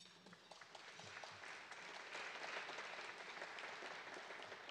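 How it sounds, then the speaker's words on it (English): Steady applause from an audience at an outstanding educators award ceremony, a continuous wash of clapping that swells slightly and holds at moderate loudness for the whole span. "The people who run College Now deserve a great round of applause."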